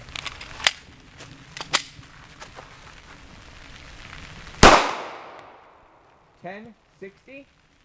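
One sharp, loud 9x19mm pistol shot of 124gr Hexagon Match ammunition from a 4.95 inch barrel cracks out during a velocity test, with a short ringing decay after scattered faint clicks, then a few quick electronic chirps.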